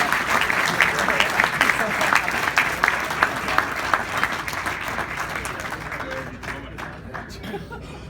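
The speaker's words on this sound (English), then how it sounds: "Give them a round of applause." Applause from a crowd at a college football banquet, a dense, loud wave of many hands clapping that gradually thins and fades, with scattered laughter and chatter mixed in.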